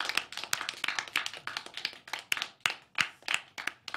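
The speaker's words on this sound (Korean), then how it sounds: "자, 여러분 박수 한번 주세요." A classroom of students clapping for a student team's presentation, brisk irregular claps at close range that build into scattered applause with no talking over them.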